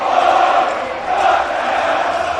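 Basketball crowd roaring in a packed high school gym during a St. Edward vs Saint Ignatius game, a loud sustained wash of cheering and shouting with swelling peaks, no clear single voice.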